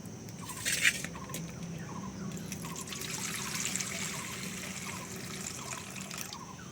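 Water trickles and splashes faintly while rice is rinsed for cooking, a soft continuous dribble with a few louder sloshes near the start and no speech.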